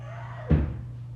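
A door shuts indoors with a single dull thud, heard once against a steady low electrical hum.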